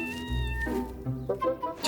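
Young Pallas's cat kittens give a few short, close meows and squeaks, starting with a low drawn-out cry and ending in quicker, higher calls.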